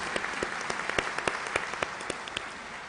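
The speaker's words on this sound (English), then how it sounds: "Please have a round of applause for these graduates" Applause for graduates at a university convocation in Lahore, a broad crowd clapping in a large hall with distinct individual claps standing out over the steady wash, fairly even and moderate throughout.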